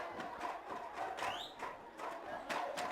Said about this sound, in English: As the crowd goes wild